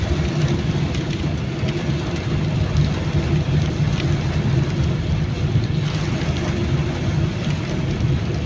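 Heavy monsoon rain pours steadily and loudly in Baroda, with traffic passing on a nearby road blending into the constant dense wash of falling water.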